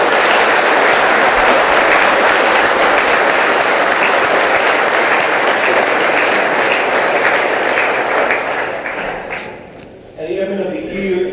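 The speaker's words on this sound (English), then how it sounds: "Please join me in a round of applause for all the outstanding Airmen of the Year nominees." Loud, sustained audience applause at a Hawaiʻi Air National Guard awards ceremony for Airmen of the Year nominees, dense steady clapping that fades near the end before a brief burst of other sound.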